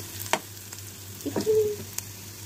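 Garlic and onion frying in a pan, a soft steady sizzle broken by a few small pops and stirring scrapes, close and fairly quiet, with no one speaking.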